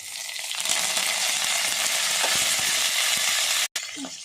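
Curry leaves drop into hot oil after mustard seeds for an okra curry, a loud, dense frying sizzle close by, with faint pops and one abrupt brief cutout near the end.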